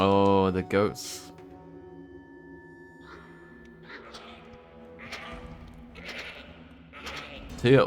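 Goats bleat in the Sphinx and the Cursed Mummy video game, a few short bleats amid game music and effects, with a loud burst at the start and end.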